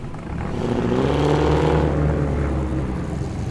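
Tuned muscle cars rev loudly and steadily while pulling out of a large car meet, with deep engine rumble swelling near the middle and easing off toward the end.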